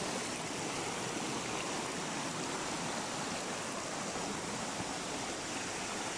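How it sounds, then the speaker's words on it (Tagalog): Al Hada waterfall roaring as a steady, dense wash of falling water, loud and continuous with no break or voices. "Ayan po yung falls nasa harap natin."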